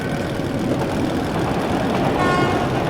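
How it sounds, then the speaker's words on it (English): A train in the video game Metro Last Light Redux rumbles with a loud, steady engine drone, and a tonal horn-like toot rises near the end. "That's the train!"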